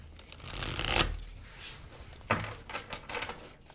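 Tarot cards shuffled and drawn from the deck during a reading: a long riffling shuffle swells, then short snaps and slides follow as cards are pulled, soft and close with no talking.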